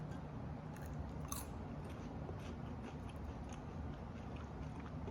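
Crispy fried chicken skin in a taco is bitten and chewed, with faint crunches and crackles repeating quietly over a low room hiss, close to the microphone.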